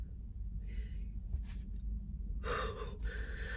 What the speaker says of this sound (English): Y'all were born breathing like this?